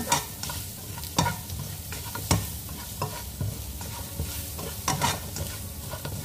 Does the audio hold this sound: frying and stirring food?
yes